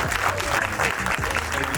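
Audience applause rings out at a New Jersey event about teens' award-winning film on ending gun violence, steady dense clapping that fills the room for a couple of seconds.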